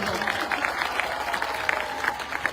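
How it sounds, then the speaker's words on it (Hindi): Sustained applause from a large crowd at a political speech in Dausa, Rajasthan, a dense, steady patter of many hands clapping at once that carries on without a break. "ताली बजाओ।"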